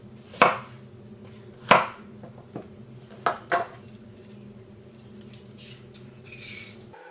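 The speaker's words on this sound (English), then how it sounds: "And then also cut off the 2 ends." A knife chops through the ends of peeled carrots on a cutting board, four or five sharp, close knocks spaced irregularly, followed by softer handling sounds with no talk.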